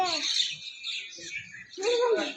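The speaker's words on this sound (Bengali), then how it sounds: "শত শত শালিক পাখি দেখুন কত সুন্দর" Myna birds chirp and squawk in bursts while being fed by a river in the morning, with a voice talking over them at close range.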